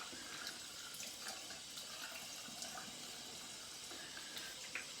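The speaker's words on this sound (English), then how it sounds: "I'm gonna rinse a bit down here." Water runs steadily from a tap into a sink while a straight razor or shaving brush is rinsed after a Williams Mug Soap lather, a continuous close hiss with small splashes throughout and no talk.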